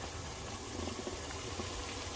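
A pot of water boiling on the stove for cooking boba, a faint, steady bubbling and rushing hiss that continues evenly throughout with no talking.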